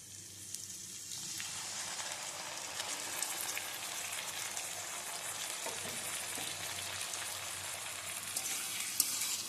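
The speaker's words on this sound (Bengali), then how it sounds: "আলু আর কুমড়োটা ভাজা ভাজা মতো হয়ে গেছে" Steady frying sizzle of potato and pumpkin in a pan, a continuous crackling hiss with occasional faint stirring scrapes, no talking.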